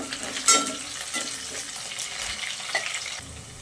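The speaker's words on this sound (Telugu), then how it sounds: "ఆనియన్ ఇలా రెడ్గా ఫ్రై అయిపోవాలా, పచ్చివాసన లేకుండా ఉంటుందండి." Onions frying in oil until reddish brown, with slit green chilies added for tomato rice: a steady close sizzle with spatula stirring scrapes and a soft clink near the start, no talking.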